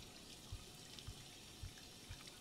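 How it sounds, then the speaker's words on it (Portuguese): A running water faucet in the video game Life is Strange 2 gives a constant soft hiss of flowing water, with a few faint low thumps at regular intervals, quiet and with no voices. "Não tá saindo água nenhuma e tá fazendo barulho de torneira."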